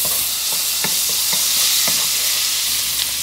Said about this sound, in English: So now we're going to add in our garlic. And we're going to give that a quick browning.